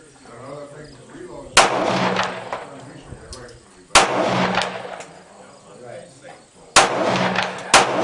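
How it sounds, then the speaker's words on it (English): German World War II Luger pistol firing three sharp, loud shots spaced a few seconds apart outdoors, with people talking quietly between them. "this is a German Luger from World War II. He's going to let me shoot it."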